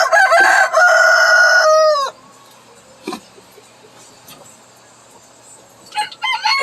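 A rooster crows loudly and close in a long drawn call, then hens cluck softly and sporadically in a quiet yard before more clucking rises at the end.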